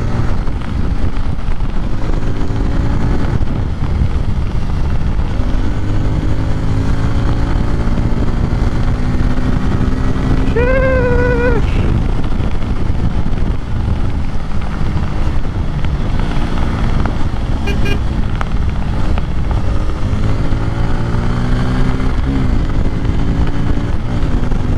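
Kawasaki Pulsar N250, a 250cc motorcycle, ridden hard in fourth gear, its engine a loud, steady drone mixed with constant wind rush, with a brief whining rise partway through.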